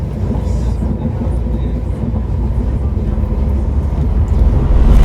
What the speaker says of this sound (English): Time to get the train home.